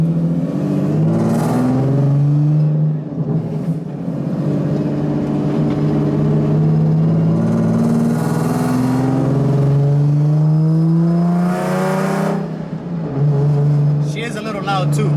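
A loud VQ-engined pro-am car with a welded diff revs repeatedly up and down close by, its rising and falling engine note dominating throughout, with voices faintly underneath.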